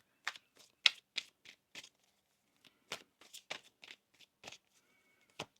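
A run of short, crisp riffling bursts from a deck of tarot cards being shuffled, close by, with brief pauses between flurries.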